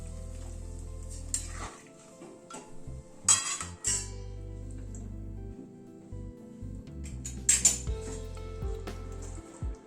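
Metal clinks and pot clatter as a lid goes onto a pan of simmering chicken curry, sharp close knocks over a soft sizzle and low background hum.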